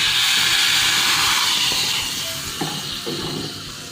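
Carrot, beetroot, tomato and leek soup boiling in a pot, a steady close steam-like hiss with faint bubbling pops and a few soft clinks, slowly easing in loudness.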